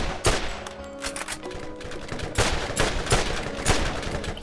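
Rapid bursts of hip-fired weapon gunfire in a Borderlands video game, loud and close, with repeated volleys and impacts filling the whole stretch.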